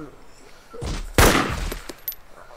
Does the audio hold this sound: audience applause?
no